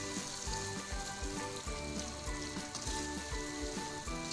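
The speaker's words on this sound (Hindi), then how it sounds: "फ्लेम को हम मीडियम टू हाई पे रखेंगे और इसको हम भूनेंगे मसाले के साथ लोबिया को 3 से 4 मिनट" Red lobia beans frying with spices in a pan over a medium-high flame give a steady, close crackling sizzle, with a few soft stirring scrapes and no voices.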